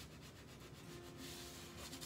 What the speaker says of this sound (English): I am going to get sanding on this piece, and it's just a little bit of pressure here.